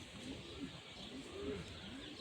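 Pigeons in a loft give repeated soft, low cooing calls in a gentle rhythm, fairly faint against quiet background noise.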